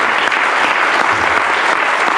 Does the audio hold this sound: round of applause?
yes